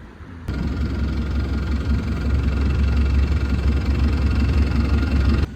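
Two speedboats wait at the shore of Phi Phi Island, engines idling close by with a steady, loud low rumble that starts abruptly and holds unbroken, with no talk.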